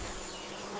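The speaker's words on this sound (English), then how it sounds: "A bee joins the feast." A bee buzzing steadily and faintly in the Amazon near a feeding caiman, a continuous thin insect drone heard alone.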